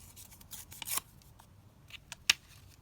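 Paper is torn by hand for a mixed-media craft pad, giving a few brief, sharp ripping bursts with quiet gaps between them, close and fairly soft.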